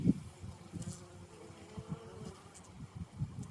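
Honeybees buzzing at a hive as foragers return loaded with pollen, a close, continuous droning hum with individual bees swelling and fading nearby, no talking.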